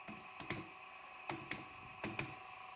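Keys clacking on a computer keyboard while a host name is typed for a Raspberry Pi Linux server setup, several short irregular bursts of clicks close by, with no talking.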